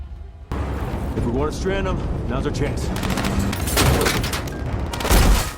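Action film battle at a secret airfield: bursts of gunfire and rocket explosions as a drone's rockets destroy a gyrocopter, loud and dense, with booming blasts near the end over music and voices.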